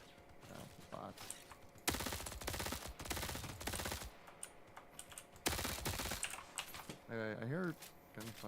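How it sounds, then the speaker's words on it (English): Rapid automatic gunfire crackles in a Halo remake game, two dense bursts of sustained shots with scattered single reports between them, heard under in-game chatter. "I hear gunfire."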